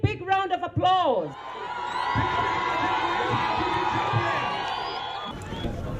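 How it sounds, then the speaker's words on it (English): Crowd noise from a public health malaria event audience, a broad sustained wash of clapping and cheering that follows a brief spoken voice and continues steadily for several seconds. "Please give them a big, big round of applause."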